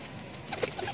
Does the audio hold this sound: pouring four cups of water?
no